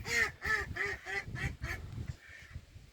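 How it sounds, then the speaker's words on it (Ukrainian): Ducks quack loudly in a rapid series of about six harsh calls, then fade to a quieter call amid rustling. "Такі качки, бачите, як сигналять."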